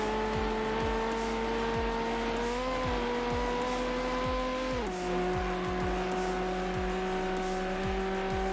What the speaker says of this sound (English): the higher pitched V8 engine, the high revving sound, naturally aspirated